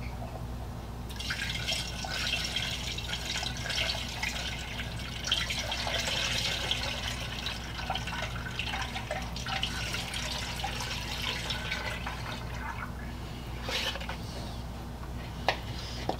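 Evapo-Rust rust remover, about a quart, pours into the tank of a lead-melting burner holding nuts and bolts: a steady trickling, splashing liquid flow, close and moderately loud, running unbroken with no voices.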